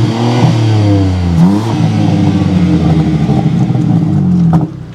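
A BMW M3 engine revs hard and close, its pitch climbing, dipping and climbing again, with a few crackling exhaust pops as it settles before cutting off near the end.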